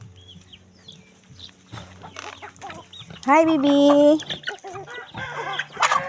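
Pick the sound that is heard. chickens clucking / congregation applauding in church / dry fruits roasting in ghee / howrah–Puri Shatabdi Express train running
chickens clucking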